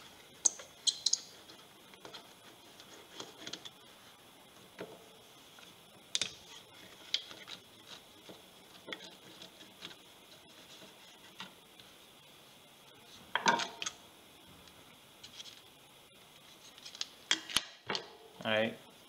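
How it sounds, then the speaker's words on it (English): Phillips screwdriver removing screws from a car alternator, with sparse faint ratcheting clicks and small metallic ticks and taps scattered across a quiet background. "Phillips screwdriver. And remove the screws."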